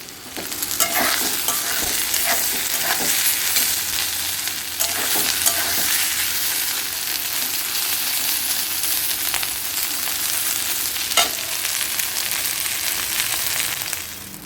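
Water lily stems (shapla) fry in a pan with a dense, continuous sizzle and occasional stirring scrapes, close and steady throughout.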